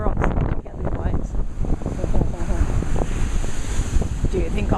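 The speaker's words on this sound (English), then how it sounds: "Check out these waves." Ocean waves breaking on the coast at Esperance, Western Australia, a continuous rushing surf roar with heavy wind buffeting the microphone throughout.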